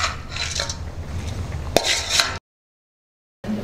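Cleaned toor dal goes into a cooking pot for a mango dal, with rustling and scraping, a sharp metallic clink in the middle, then a cut to silence before the sizzle resumes.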